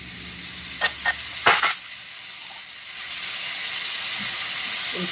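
Peppers and onions frying in a pan, a steady bright sizzle throughout, with a few sharp clatters of stirring early on before the hiss evens out.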